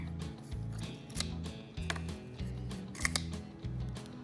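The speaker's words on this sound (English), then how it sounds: "we're going to take the scissors." Scissors cut through cardboard for making seed pots, a series of rhythmic crunching snips repeating every half second or so, close and fairly quiet.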